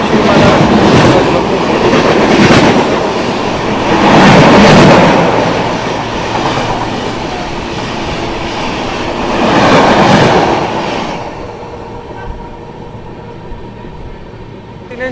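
Bihar Sampark Kranti Express 12566, running between New Delhi and Darbhanga, rumbles past slowly with broad rolling noise and periodic swells of wheel clatter that fade into a quieter tail.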